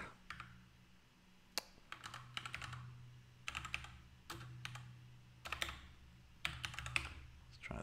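A computer keyboard is typed on in bursts of quick, close clicking keystrokes separated by short pauses, over a faint low hum.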